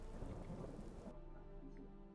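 Rain pours steadily in the video game Skyrim, a dense hiss that suddenly drops about halfway through to a quieter, thinner patter with a faint low hum underneath.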